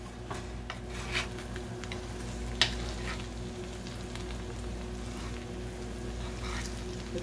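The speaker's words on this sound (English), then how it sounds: "I'm going to stir it up" Cajun pork and sausage jambalaya is stirred in a pot, with a low steady sizzle under occasional scraping and a single sharp clink of the spoon against the pot.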